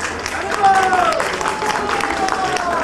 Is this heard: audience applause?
yes